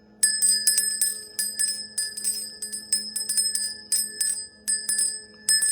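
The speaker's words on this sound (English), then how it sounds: "I'm going to ring the bell" A small bell is rung in quick repeated bursts of bright metallic chimes during a tarot reading session, loud and close with no talking.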